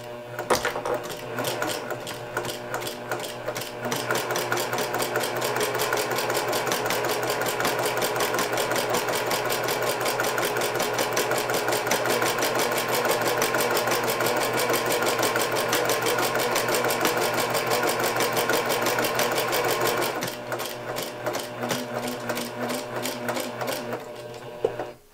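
Sewing machine stitching quilt binding, running continuously and steadily at close range with a fast, even needle rhythm for about twenty seconds, easing off near the end.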